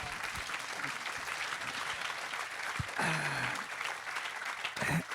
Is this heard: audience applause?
yes